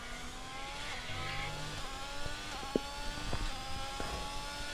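A racing car in a racing video game accelerates out of a corner on intermediate tyres during qualifying, its engine note rising steadily in a continuous whine with harmonics sweeping upward, and a brief knock partway through.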